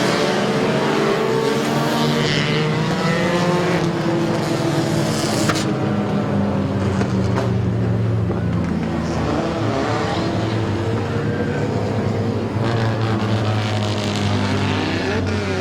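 Race cars roaring around the oval at Midvale Speedway, a loud continuous engine drone with shifting pitch as cars pass and rev, steady throughout.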